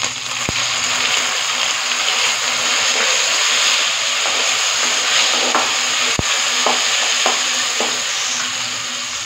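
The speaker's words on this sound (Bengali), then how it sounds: "এটাকে একটু হালকা করে একটু ভেজে নেব," Tomato puree with ginger and garlic fries in a pan for chicken changezi, giving a steady loud sizzle throughout with occasional sharp clinks and stirring scrapes.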